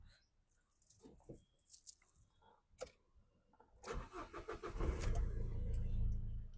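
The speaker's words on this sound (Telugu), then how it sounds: "ఒకటే సెల్ఫ్కి స్టార్ట్ అయిపోయింది, ఎలాంటి స్టార్టింగ్ ట్రబుల్ అయితే లేదు." A 2014 Renault Pulse RxZ diesel car starts on a single crank after a few quiet clicks and rustles, and the engine rises into a loud, steady idle close by.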